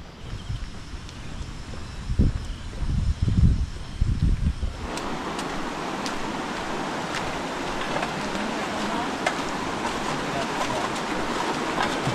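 Heavy rush of water from a strong provincial waterfall swollen by rain, a steady broadband roar that starts abruptly and continues loud and constant, with a few faint voices and rumbles before it.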